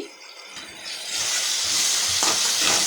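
Sauce stirred into vegetables in a hot pan for chicken chowmein, a soft hiss that swells into a steady, close sizzle with light scraping as the mix is turned, no voices.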